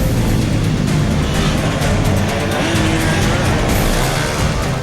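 Bikers race at night on a seaside road in Mumbai, a loud, continuous roar of engines and rushing traffic with no clear breaks.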